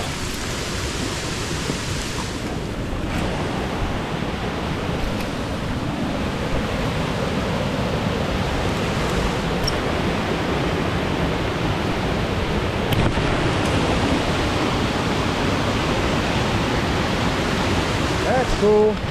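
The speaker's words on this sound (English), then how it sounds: "Here's that waterfall." A waterfall rushes in a flooding quarry, a loud continuous roar of churning water that stays steady and close throughout, with only faint scattered knocks over it.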